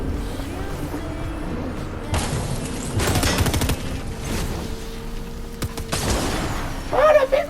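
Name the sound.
gunfire in the video game Fortnite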